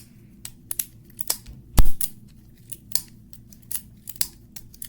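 A revolver is cycled by hand, giving a series of sharp, close, dry clicks from the trigger and turning cylinder at an irregular pace, with one heavier snap partway through.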